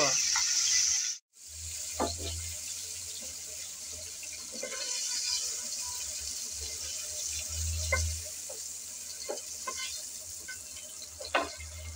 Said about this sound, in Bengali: শুরুতে কিছুটা লবণ আর হলুদ দিয়ে নেড়ে চেড়ে ফুলকপি ভেজে নেব।